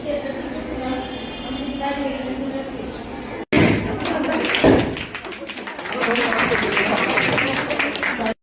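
A crowd claps at a hospital IUI centre inauguration, with a loud burst of applause mixed with thumps and taps following a stretch of speech-like noise.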